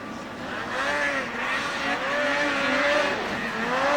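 600cc liquid-cooled racing snowmobiles roar past on the Rock Maple Racing Circuit at Haystack in December, engines whining and rising and falling in pitch as the sleds sweep by fairly close.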